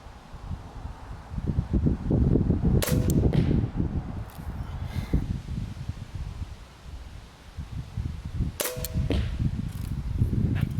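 A Killer Instinct LOGIX 435 crossbow fires a three-shot group at 50, each shot a sharp snap. Two come close together and a third follows several seconds later, over steady outdoor wind noise.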